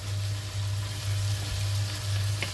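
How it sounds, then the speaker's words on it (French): Onions, garlic and minced meat cook steadily in a pan for a pasta tagine, giving a continuous soft sizzle with a low steady hum underneath and a faint scrape near the end; no one speaks. "on laisse bien cuire les oignons, l'ail, la viande"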